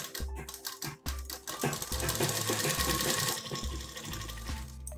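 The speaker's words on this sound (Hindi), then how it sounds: "पूरी रेप पट्टी पे ऐसे ही सिलाई लगाएंगे" An electric sewing machine runs in bursts, stitching a strip onto a designer top, its rapid needle chatter and motor hum stopping and restarting close up, with no talking.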